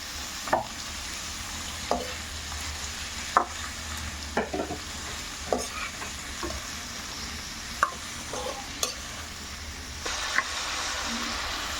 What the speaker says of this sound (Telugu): తర్వాత పచ్చిమిరపకాయలు వేసుకోవాలి ఉల్లిపాయ వేసుకోవాలి